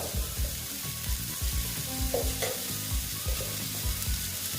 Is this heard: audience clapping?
no